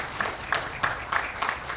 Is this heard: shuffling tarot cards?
no